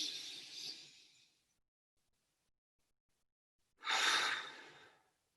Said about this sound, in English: inhaling and exhaling slowly and deeply